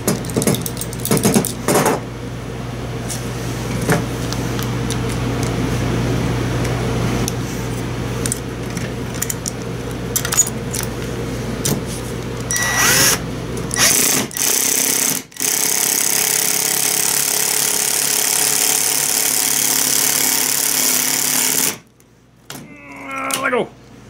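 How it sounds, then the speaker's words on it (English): A power drill driving into wood whines steadily for several seconds, then cuts out; the motor noise is close and loud, with brief clatters and handling sounds near the end. "Or I could just try to drill this guy in here."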